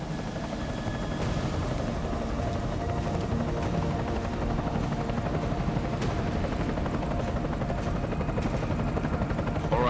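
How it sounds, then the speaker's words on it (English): Enemy helicopter in the video game Deus Ex: Mankind Divided, a steady rotor thrum with occasional sharp impacts, fairly faint and continuous with no voices. "Enemy helo sighted."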